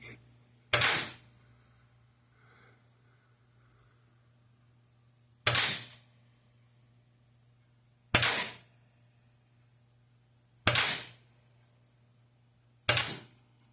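.177 GK1 air gun firing at low velocity: five sharp, isolated cracks spaced a few seconds apart over a faint steady hum, close and without speech.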